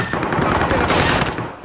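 Rapid automatic gunfire in a video game match, a dense, loud, continuous burst of shots lasting under two seconds with no talking.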